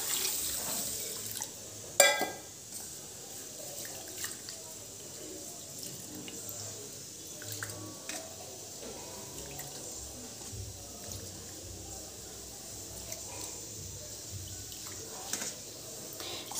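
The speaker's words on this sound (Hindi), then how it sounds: "पानी से अच्छी तरह से इसको हम धो लेते हैं।" A kitchen tap runs steadily while Gobindobhog rice is rinsed, a continuous hiss of flowing water with occasional splashes and knocks, and faint bird calls in the background.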